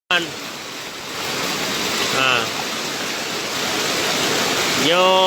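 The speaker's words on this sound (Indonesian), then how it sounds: "Akibatnya meluap air Sungai Alui Merah hingga banjir mencapai 1 meter lebih kedalaman." Floodwater from the overflowing Alui Merah River in Indra Makmur, East Aceh, a steady loud rushing wash like a torrent, with brief voices cutting in at the start, middle and end.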